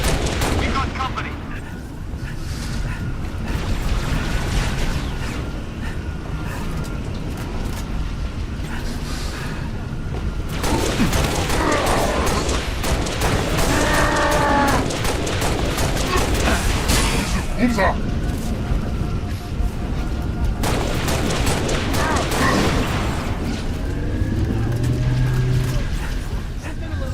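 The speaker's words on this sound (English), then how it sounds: "I'm under fire!" Gunfire in Halo: Reach during a firefight against the Covenant, with repeated shots and bursts, loud and close, mixed with mechanical clanks and game effects, broken by brief quieter gaps.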